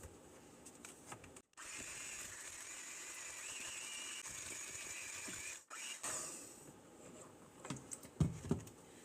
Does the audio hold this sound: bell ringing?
no